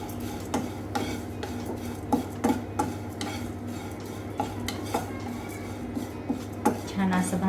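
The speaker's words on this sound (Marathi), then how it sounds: "आता हे पोहे आपल्याला भाजून घ्यायचे आहे" Half a bowl of poha (flattened rice) dry-roasting in a pan, stirred continuously with a spoon that scrapes and clinks against the metal in irregular taps, close up, with a faint low hum underneath.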